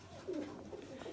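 Pigeons coo close by, a few soft, low, throaty coos over a quiet background.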